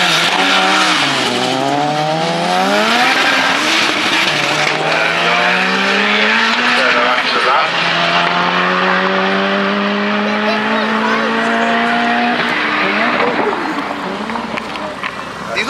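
A Nissan GT-R race car circles a track, its engine rising and falling loudly through gear changes with overlapping harmonic sweeps as other cars pass, continuous for the whole stretch.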